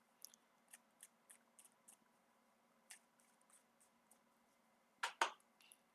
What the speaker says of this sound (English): Give me a second to finish shuffling.